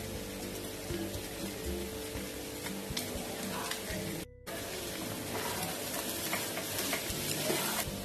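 A home-cooked dish fries in a pan as chopped coriander goes in and gets stirred, a continuous loud sizzle with scraping stir strokes throughout and a very brief break partway through.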